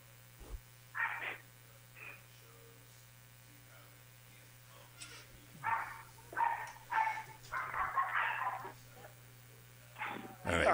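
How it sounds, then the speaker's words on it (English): Dogs barking and whimpering indoors in several short bursts, loudest in a cluster near the middle and again at the end, over a steady mains hum. "Sorry about my dogs."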